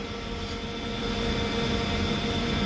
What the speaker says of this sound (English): Also departing now is the 807 for London Euston, starting here at Birmingham New Street